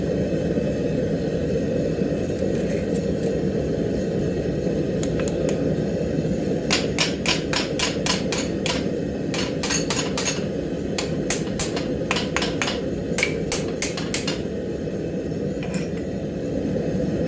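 Quarter-inch steel hooks bent around a jig in a blacksmith's workshop give a run of sharp metallic clanks and taps, clustered irregularly over a steady low background hum, fairly close and with no voices.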